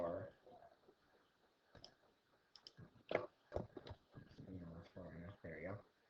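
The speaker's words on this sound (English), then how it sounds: "So just click to go to the next slide." A computer mouse clicks through presentation slides in a few sharp, quiet clicks scattered under a person's steady speech.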